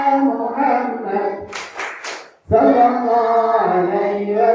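A short burst of quick rhythmic hand claps breaks into Islamic sholawat singing by a fourth-grade class, with voices chanting before and after the clapping.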